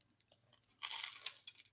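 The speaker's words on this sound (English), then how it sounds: "Oh, I hear that crunch." A crunchy churro is bitten into up close, giving a short burst of loud crisp crunching and chewing after a quiet moment, with no talking.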